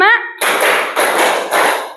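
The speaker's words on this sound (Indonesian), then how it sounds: "Tepuk 1, tepuk 2, tepuk 3, tepuk 4, tepuk 5." A classroom claps together to a counted pattern, with three loud, sharp bursts of clapping spaced at a steady rhythm after a brief voice at the start.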